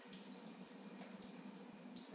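Soaking water drains off beans in a steady, gentle trickling pour, with soft splashes throughout, fairly quiet and close.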